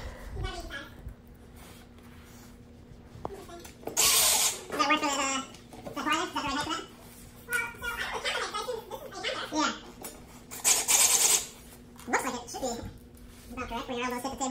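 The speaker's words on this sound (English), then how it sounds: "I've got my drill chuck set to about 16, so I can just buzz those bolts down real hard." A cordless power drill set to clutch 16 drives bolts into chair furniture during assembly, with several loud whirring bursts. Brief clicking sounds fall between the bursts, and people talk nearby.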